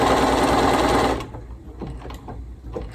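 A Bernina Series 3 sewing machine stitches a pattern with a dense, fast mechanical whir close up, then stops abruptly after about a second, leaving soft clicks and handling noise.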